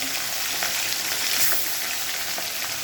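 Pieces of hilsa fish sizzle in hot oil in a kadai, a dense, continuous close-up crackle with small spitting pops and no voices.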